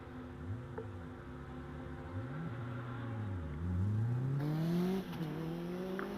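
Force TA hillclimb race car at Loton Park, engine climbing and falling through repeated rising revs and gear changes as it drives the course into and out of a corner, loud and close with no talk.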